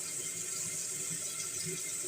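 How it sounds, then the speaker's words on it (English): A tap runs steadily into a sink, giving a close, even, hissing rush of flowing water that continues without a break for the whole stretch, with no voices. "Don't leave the water running"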